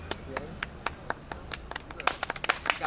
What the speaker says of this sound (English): We got applause, so that's good.